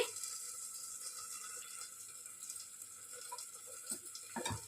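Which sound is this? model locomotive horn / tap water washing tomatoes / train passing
tap water washing tomatoes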